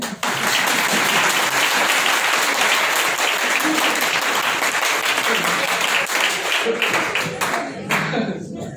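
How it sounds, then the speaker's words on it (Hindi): At a Hindi lecture on ideology and cinema, the audience claps loudly and steadily for several seconds, then the applause thins out toward the end. "अरे ताली बजा दो।"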